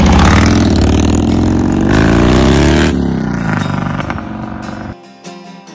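A Harley-Davidson V-Rod motorcycle engine runs loud and close, a deep throbbing rumble that swells and then eases off, before the sound cuts out abruptly near the end.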